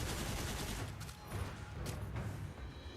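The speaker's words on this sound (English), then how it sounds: "This is just like a machine gun." Rapid machine-gun-style weapon fire from a video game, a steady dense rattle of shots lasting a few seconds at a fairly low, even level with no talking.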